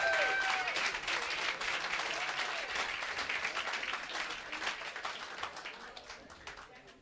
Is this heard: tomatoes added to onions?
no